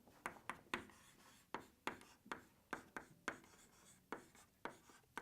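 Chalk or marker writing physics equations on a classroom board: a quick, irregular series of about fifteen crisp strokes and taps, close and fairly quiet, with no talk.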